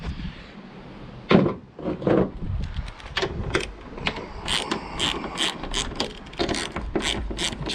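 Fasteners being undone on the lock of an Aeroklas canopy fitted to a Ford Ranger, heard as close, irregular mechanical clicks and ratcheting taps scattered through the clip, with a few heavier knocks near the start.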